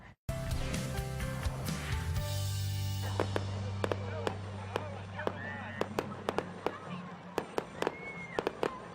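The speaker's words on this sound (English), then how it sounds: "rain did not stop the Fullerton fireworks last night, a dazzling display of light for all to see" Fireworks crackle and pop in a rapid string of sharp bangs, some near and loud, others fainter, over a low steady rumble, at a public display in Fullerton in rain.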